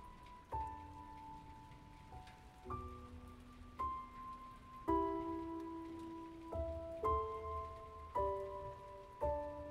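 Steady rain patters on surfaces in a quiet, continuous wash, with soft sustained musical tones heard along with it.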